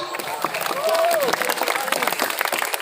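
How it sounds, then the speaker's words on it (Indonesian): Applause for students at a school gathering, a crowd clapping steadily and fairly close, with a brief voice rising over the claps. "Tepuk tangan kepada anak."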